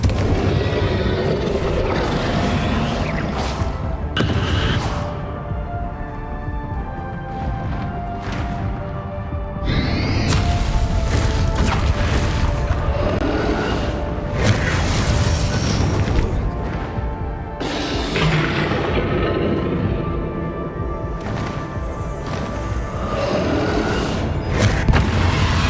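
Loud, continuous blasts from Confringo fire spells in the video game Hogwarts Legacy, heavy booms and bursts following one another with barely a break for the whole stretch.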